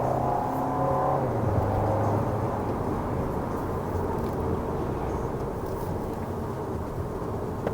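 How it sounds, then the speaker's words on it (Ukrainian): An Audi A4 B9 2.0 TFSI Quattro engine revs up and accelerates, a steady whirring drone with rising pitch early on, heard from inside or close by. "Пришвидшення відбувається дуже швидко, машина дуже чутлива"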